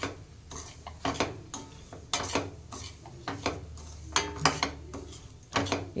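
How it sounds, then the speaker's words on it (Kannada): Rava (semolina) roasting with curry leaves in a pan for upma, stirred with a spoon that scrapes and clinks against the metal in an irregular rhythm, close and moderately loud. "ರವೆ ಚೆನ್ನಾಗಿ ಹುರ್ಕೊಳ್ತೀನಿ."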